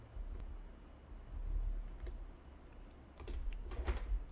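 Typing on a computer keyboard, a quiet scattered run of soft key clicks in small bursts, faint and close, no talk.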